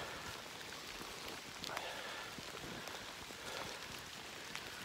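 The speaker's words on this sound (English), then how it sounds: "the rain came" Rain falls steadily on the Appalachian Trail as a broad, even hiss with scattered drop patter, close and constant throughout.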